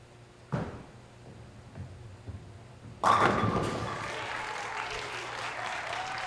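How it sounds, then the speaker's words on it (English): Crowd at a televised bowling match bursts into loud applause and cheering after a clutch shot, following a few quieter thuds; the clapping sustains steadily and close, with no talk over it. "And the crowd is excited and into it."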